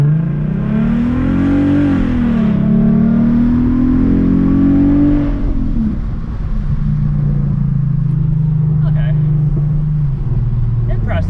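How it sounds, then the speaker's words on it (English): Ford Mustang with a Bama tune accelerates hard at full throttle, engine note climbing loud and close through the gears before easing into a steady cruising drone, with a voice talking over the later part. "we're gonna go full throttle right here"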